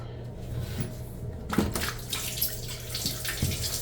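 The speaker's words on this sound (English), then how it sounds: "So I am draining that water." Water drains from a toilet tank during a rebuild of its fill valve, starting quietly then becoming a gurgling, splashing flow with small knocks and clunks, close and fairly soft.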